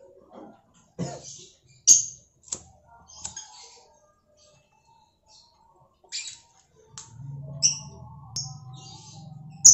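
A songbird kept by a hobbyist gives short, sharp chirps and high whistled notes in sparse bursts amid near silence, with a low muffled rumble and a throat-clearing sound mixed in.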